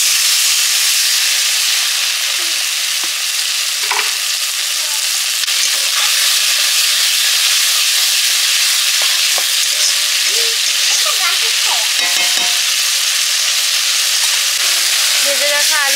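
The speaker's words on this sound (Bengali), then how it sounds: "এবার জল দিয়ে দিচ্ছি।" Water hits chopped ginger and garlic frying in a pan, raising a steady, loud sizzling hiss that runs unbroken throughout, with faint stirring scrapes near the middle and end.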